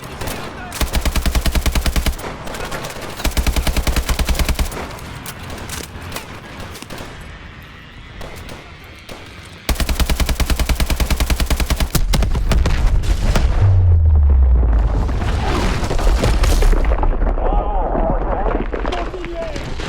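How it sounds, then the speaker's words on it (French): Rapid machine-gun fire in sustained bursts with booming explosions and a deep rumble in the video game Call of Duty: Advanced Warfare, loud and dense, with voices talking underneath. "On ne peut pas s'approcher de ces explosions."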